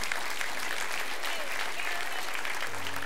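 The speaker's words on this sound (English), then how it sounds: "So give yourself a round of applause." A church congregation breaks into a steady round of applause, dense and even throughout, with faint voices mixed underneath.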